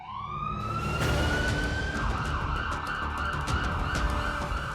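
Sirens on government vehicles racing through the streets and lanes of Ayodhya: a loud, close wail sweeps upward and holds a high pitch over road rumble, with no talk.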